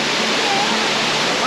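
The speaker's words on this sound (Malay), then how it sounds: "Cantik air terjun kat belakang ni." A waterfall at a scenic river spot rushes in a steady, loud, broadband roar that fills the whole moment with no breaks.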